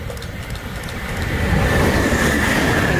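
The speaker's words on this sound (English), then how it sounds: "we had the Bathurst Bullet passing through platform number" The Bathurst Bullet passes through a station platform at Doonside with a loud, building rumble of wheels on rail and a thin high squeal, close by and without talk.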